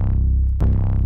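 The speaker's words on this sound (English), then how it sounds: "The other layer of the sub is literally just the sample from Ramzoid that I've been using a lot" An 808 bass sample used as a sub layer in a music mix plays as a sustained, loud, deep tone with a sharp retrigger about halfway through, alone with no talk.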